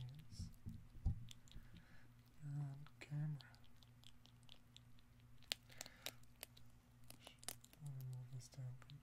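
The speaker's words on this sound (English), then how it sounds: "a nice crunch sound." Crunchy cereal, including Cap'n Crunch pieces, being chewed close to the mic, with soft clicking crunches and bites spread through a quiet stretch, plus some faint low background hum.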